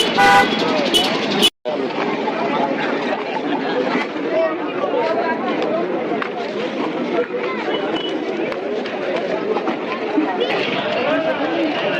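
A dense crowd of pilgrims and traffic at the Bhimashankar temple: constant chatter of many voices mixed with repeated car horn toots and passing vehicles, loud and close, with a nearby voice talking over it.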